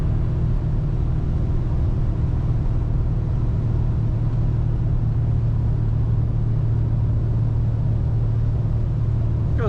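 A 1968 Dodge Charger two-door hardtop cruises down the road, its engine a steady low rumble with road noise heard from inside the car, continuous and fairly loud, with no talking.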